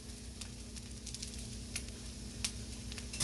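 Eggs frying in a pan for a breakfast sandwich give a steady, close sizzle with faint crackles and pops and a low hum underneath, with no talking.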